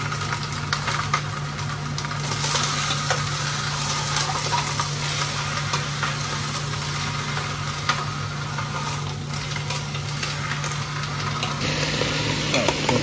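Chicken drumsticks fry in a pan with a steady, dense sizzle and crackle throughout, a constant low hum underneath and faint scraping from stirring.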